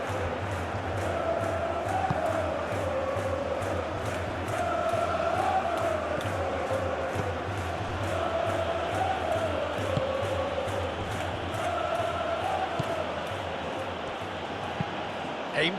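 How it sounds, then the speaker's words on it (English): Stadium crowd in a FIFA World Cup football video game simulation, Netherlands against Sweden, a steady roar of massed voices with swelling chants running throughout, loud and continuous. "Maybe the crowd will stay a little quieter next time."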